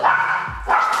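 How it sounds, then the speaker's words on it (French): Dog barking, two quick close barks separated by a brief pause, loud and sharp. "À chaque fois que je parle, il aboie."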